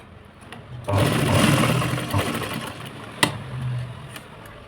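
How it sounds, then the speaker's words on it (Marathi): A sewing machine whirs in one steady burst lasting a few seconds as it stitches along a cloth edge, then slows and stops, with a sharp click near the end. Close and fairly loud, with no voices. "शिलाई मारून घ्यायची वरतून व्यवस्थित"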